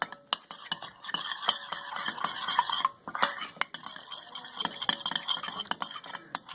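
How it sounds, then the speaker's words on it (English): A utensil stirs tofu marinade in a bowl, scraping and clinking steadily against the sides in close, continuous strokes with brief pauses, no voices over it. "So then you just start stirring it."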